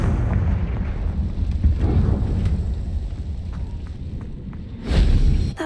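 Confringo explosion spell in the Hogwarts Legacy video game, a dense rumbling blast with low booming texture that sustains throughout, swelling again with a sharper burst near the end.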